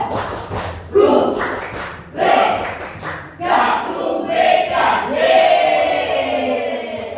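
A school audience does a rhythmic group clap led from the front, with bursts of clapping and thuds coming in short waves alongside chanted voices, close and energetic.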